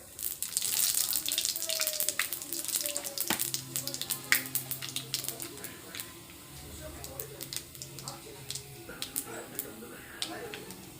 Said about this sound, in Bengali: তেল গরম হয়ে গেছে, দিয়ে দেব 5 ফোড়ন সিম আলু তরকারির জন্য